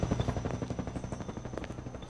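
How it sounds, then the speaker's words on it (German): A helicopter in a video game gives off a steady, rhythmic rotor thump with a low drone underneath, fairly close and continuous, with no talk over it. "ich bin gerade im Helikopter, alles gut"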